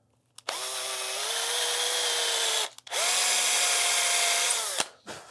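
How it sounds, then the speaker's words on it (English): A power drill bores a hole in a sword pommel in two sustained bursts, its motor whine pitching down under load before stopping, close and clear. "let's drill a hole for it"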